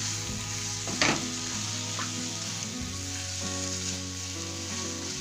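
Washed chicken, about half a kilo, fries with spice powders in a pan for pepper chicken, a loud close sizzle with a sharp clatter early on and steady crackling and stirring after.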